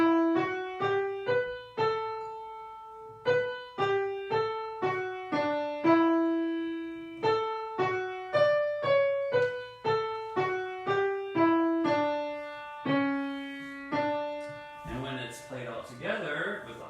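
A hymn tune is played as a single melody line of clear, plucked or struck notes, each decaying quickly, in a steady unhurried rhythm, close and alone, with a short burst of other sound at the end.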